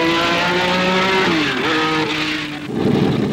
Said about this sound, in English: Number 76, the red Ferrari, has been circulating faster and faster.